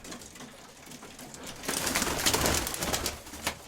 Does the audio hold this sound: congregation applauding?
no